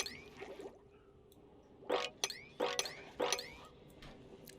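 Water spills being mopped up in the video game Oxygen Not Included: three or four short, wet squelching game effects with bright chirpy tails, spaced about half a second apart over a quiet background hum.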